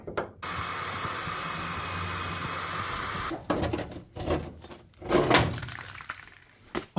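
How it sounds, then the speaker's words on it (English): A power drill bores out spot welds on the quarter panel of a Nissan 240SX under restoration: one sustained whirring run of about three seconds, then choppy bursts of grinding and clunking as the bit bites, close up with no talk. "just grab a drill bit and drill that out a little bit more"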